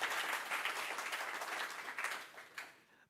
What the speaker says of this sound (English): give a round of applause for Masterpiece Hospital